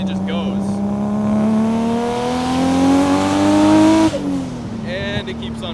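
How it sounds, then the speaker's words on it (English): A Nissan Skyline R32 GT-R with all-wheel drive, a 63mm turbo and about 700 wheel horsepower accelerates hard. Its loud engine note climbs steadily in pitch to a high rev, then cuts sharply as it shifts and drops back, heard from inside the car. "63mm turbo and it's cranking out 700 horsepower at the wheels."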